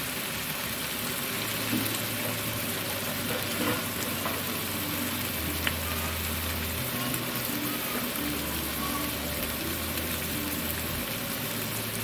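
Garlic, onion and ginger sauté in a pan for chicken liver and heart adobo, giving a steady, close sizzle with occasional stirring scrapes and no voices.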